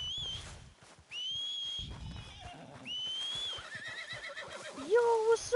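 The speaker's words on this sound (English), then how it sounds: "Oh, my horse is actually here!" In the video game Red Dead Redemption, a horse's whinny rises near the end amid short whistles and soft hoof and movement noises, all moderately close.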